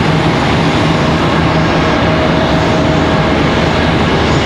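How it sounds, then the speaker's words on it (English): American Airlines Boeing 737-800 jet arriving at Charlotte Douglas airport, a loud steady engine roar with a faint tonal whine running throughout, no voices. "American Airlines 1317 coming in from LaGuardia, 737-800 coming in center"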